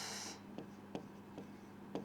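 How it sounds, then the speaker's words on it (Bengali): Pen or chalk strokes by hand during a math lesson on trigonometry, a brief scratchy burst followed by four short, sparse taps, close and quiet with no talking. "আমি একটু দূরে লিখি"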